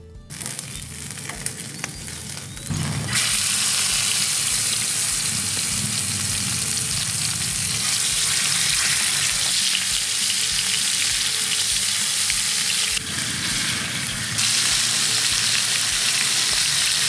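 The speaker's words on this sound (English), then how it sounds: "bone marrow is actually super easy to do on the fire because you have this bone protecting what you're cooking from the flames" Bone marrow bones sizzling on a Breeo grill over an open wood fire, a loud continuous close crackling sizzle that starts after a few quieter seconds and holds steady, with no talk.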